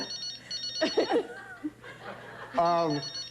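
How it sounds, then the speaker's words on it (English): A telephone bell rings in short bursts while people chuckle and talk over it nearby. "you got a phone ringing"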